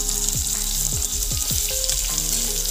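Chopped onion and tomato sizzling in a frying pan with curry leaves, a steady close hiss broken by a few distinct stirring scrapes, no voices.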